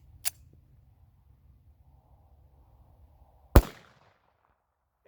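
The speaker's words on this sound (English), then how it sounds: "we will shoot it over the chronograph and just double check that everything's doing what it's supposed to" Two sharp reports from Blazer 230 grain FMJ .45 ACP rounds fired over a chronograph at an outdoor range, a quieter one early and a louder one a few seconds later, with low rumble in between.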